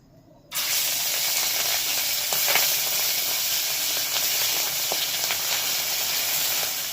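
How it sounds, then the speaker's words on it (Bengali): Small tengra fish coated in salt and turmeric drop into hot oil and set off a loud, steady, broadband sizzle that starts abruptly and holds evenly at close range, with no talk. "তেলটা গরম হয়ে গেছে, একটু লবণ হলুদ মাখিয়ে নেব। এক এক করে মাছগুলোকে ভেজে নেব।"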